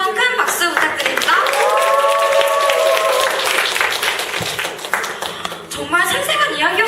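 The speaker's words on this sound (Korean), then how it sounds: "이렇게 멋진 스토리를 들려준 조은별 학생에게 다시 한번 큰 박수 부탁드립니다." Audience applause at a school information session and student showcase, a broad wash of clapping with a voice speaking over it, followed by more talk.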